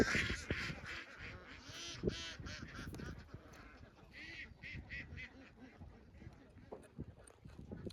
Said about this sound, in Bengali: এখানে হাঁসের ফার্ম অনেক হাঁস